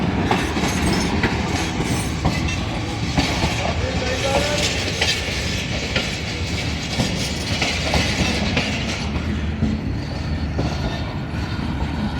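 The Subak Kharam Express (103 Up), an Indian passenger train, departs with steady clickety-clack of wheels over rail joints and a dense rumble of rolling carriages, loud and close throughout.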